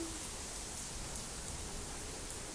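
Rain falls as a steady, even hiss of fairly soft noise without breaks, and no voices are heard.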